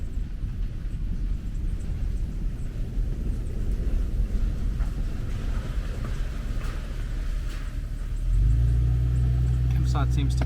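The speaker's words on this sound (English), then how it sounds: "Car passing." A car passing near a campsite, heard as a steady broad rumble of engine and tyre noise that swells and then settles into a louder low drone toward the end, with an outdoor hush beneath.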